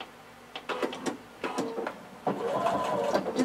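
A sewing machine stay stitching a blazer neckline about a half inch from the fabric edge, with short bursts of close, rapid mechanical whirring between pauses, then a longer steady run.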